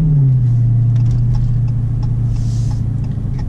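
A Dodge Hellcat's engine while driving on the way to a car show: a loud, close, deep steady rumble, dropping in pitch right at the start and then holding, with no talking.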